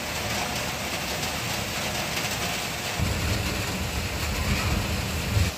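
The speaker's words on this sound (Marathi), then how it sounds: "बाहेर खूप जोराचा पाऊस पडत आहे आणि त्याचाच आवाज मोबाईलमध्ये येत आहे" Heavy rain pours outside during a downpour in Pune, captured through a mobile phone: a dense, steady roaring hiss that swells louder about halfway through, with no voices.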